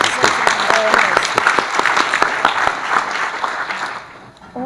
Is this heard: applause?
yes